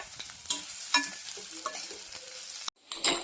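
Bitter gourd pieces frying uncovered in a pan, lively sizzling under brisk stirring scrapes, with a sharp clatter and a brief pause before the frying resumes.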